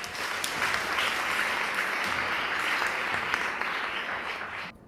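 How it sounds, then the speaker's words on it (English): Sustained audience applause fills the whole stretch, a dense steady wash of clapping that stays loud throughout and cuts off abruptly at the end, with no voices over it. "So let's give them all a round of applause."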